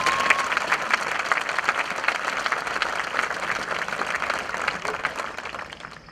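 Sustained applause from the crowd at the Pentucket High School class of 2014 commencement, a dense steady roar of many hands clapping that fades slightly at the end.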